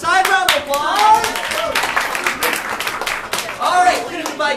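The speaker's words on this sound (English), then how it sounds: "Round of applause" Scattered audience clapping at an improv comedy showcase runs steadily under a voice talking over it, moderately loud and close.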